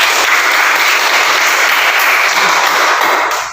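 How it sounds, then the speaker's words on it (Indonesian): A classroom of students applauding together, a loud, dense, steady wash of clapping that holds evenly for several seconds before easing off at the end. "tepuk tangan untuk kalian semua"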